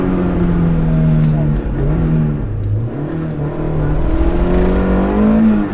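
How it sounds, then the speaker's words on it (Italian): A Toyota AE86 engine with its intake roaring as the throttle lifts, a close, loud, rising and falling engine note from inside the car, with someone talking over it. "Questo è proprio un rumore d'aspirazione"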